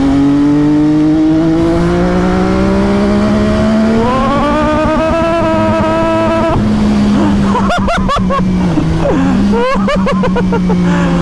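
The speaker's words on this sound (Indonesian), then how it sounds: "udahlah motor ini ngebut dah, ini motor ngebut banget" A loud MV Agusta F3 800 sport motorcycle engine winds up during a test ride, its pitch climbing through the revs, then drops back before a few sharp throttle blips.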